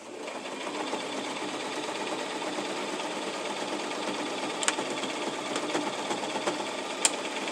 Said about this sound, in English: You can hear that the sewing machine is working a little harder.